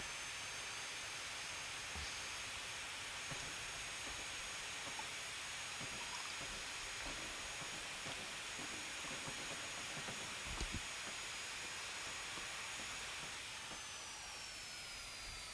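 A gas turbine locomotive on the South Western Main Line in Train Simulator 2019 gives a continuous jet-like whine and roar, dense and steady, with a faint rising whistle near the end and no speech.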